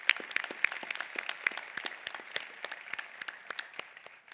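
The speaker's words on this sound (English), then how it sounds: "let's give ourselves a big round of applause." Graduates at a business school graduation ceremony applaud. The clapping is sparse and uneven, with distinct individual claps in a loose, steady patter over a soft crowd bed.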